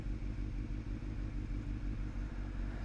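Motorcycle riding on the road, a steady low engine drone with wind rumble holding at an even level close to the rider throughout.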